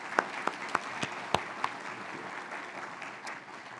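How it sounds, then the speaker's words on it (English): Scattered claps open, then soft, distant applause from a commencement audience for university officials, lasting a few seconds at low level. "Let's give these folks a round of applause."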